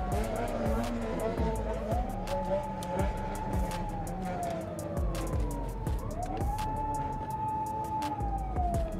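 A police siren in South Africa wails through repeated rising and falling sweeps, loud and close over steady traffic rumble, while people talk throughout.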